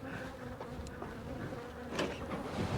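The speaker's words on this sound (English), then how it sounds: "I still got 3-4 of those mean bees around me." Bees buzzing close around a beekeeper at a hive, with a soft, wavering drone and a few louder passes as individual bees fly near.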